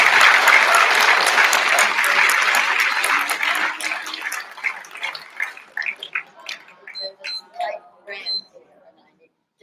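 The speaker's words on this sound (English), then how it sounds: "Round of applause." A reunion crowd honours the class celebrating 75 years with loud, dense applause that fades into scattered individual claps before dying away, with voices mixed in toward the end.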